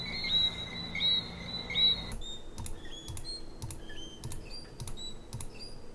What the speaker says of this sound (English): Here, very quietly, we have the birds.